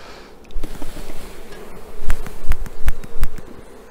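Honeybees hum densely over a comb holding honey and fresh brood, a close, steady buzzing swarm with several brief knocks and thuds from handling the frame.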